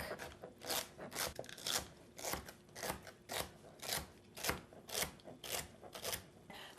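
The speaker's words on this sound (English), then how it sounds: "So I'm just going to chop up the celery real quick." Celery being chopped on a board with a knife, about a dozen crisp, crunchy cuts in a steady, even rhythm, close and quiet with no talking.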